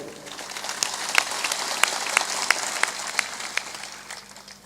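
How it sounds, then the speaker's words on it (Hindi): A sparse scattering of claps rises from the audience at a spiritual talk, individual sharp hits standing out over a soft, thin patter that fades toward the end. "थोड़ा जोर से ताली बजाया करो।"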